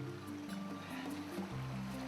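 A village river used for rice-field irrigation, bathing and washing livestock flows with a soft, steady watery rush and faint trickling, fairly quiet and continuous.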